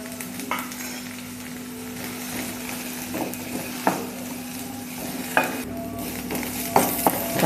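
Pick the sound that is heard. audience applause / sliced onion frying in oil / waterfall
sliced onion frying in oil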